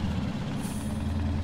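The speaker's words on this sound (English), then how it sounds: "Very loud, isn't it, the truck?" A loud truck engine gives a steady, heavy low rumble that fills the whole moment, close by and constant with no break.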